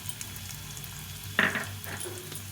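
Salt, turmeric, cumin and chili powder sauté in a pan for a fish curry with mustard paste. A quiet steady sizzle plays close by, and one sharp utensil clank sounds midway.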